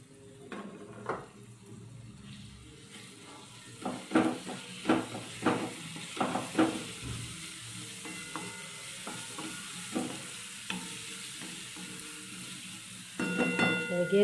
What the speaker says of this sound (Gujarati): આવી રીતે થોડી થોડી વારે હલાવતું રહેવાનું, નહીંતર મસાલા બળી જશે।